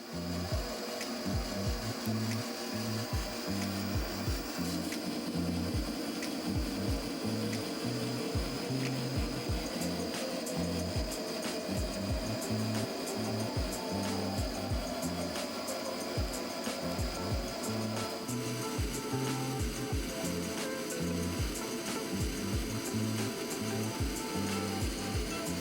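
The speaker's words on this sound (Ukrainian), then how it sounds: "Обираю напрямок ходу супорта, вмикаю функцію автоподачі і просто спостерігаю за верстатом." Metal lathe on auto feed turning a crankshaft blank for a homemade T-150 tractor engine: a steady rhythmic mechanical chatter and hum from the spindle and carriage, continuous and moderately loud, with no voices.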